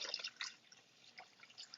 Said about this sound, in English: It's splashing, and my back is killing me. But there we go. There we go. Just pouring it off.